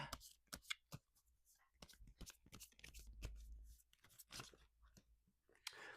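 Tarot cards being shuffled in quick, uneven bursts of riffling and snapping, close by, with soft handling noises between.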